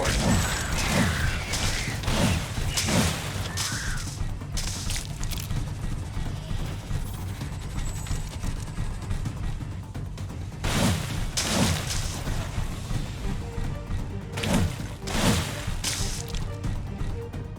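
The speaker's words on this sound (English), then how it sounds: "One of our buildings is being destroyed." Buildings crumble under attack in The Riftbreaker, sci-fi base-building game: repeated crashing, smashing impacts come in bursts amid steady mechanical rumble and battle noise, with a few loud collapses near the start and again toward the end.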